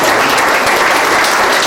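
Church congregation during a Sunday service breaks into loud, sustained applause, a dense unbroken wash of clapping filling the space throughout.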